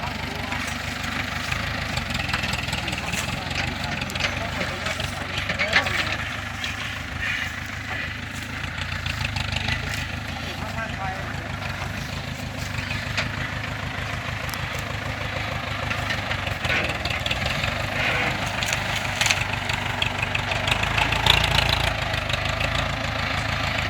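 A tractor engine runs steadily while pulling a sugarcane truck, a continuous mid-to-low rumble with knocking idle character, joined by faint background voices.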